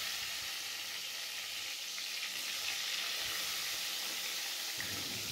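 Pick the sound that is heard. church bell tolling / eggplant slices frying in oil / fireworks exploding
eggplant slices frying in oil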